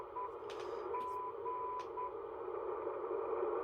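A steady beacon tone comes through an HTX-100 ham radio over constant band noise, repeating as short beeps within a continuous hiss, with a few faint clicks mixed in.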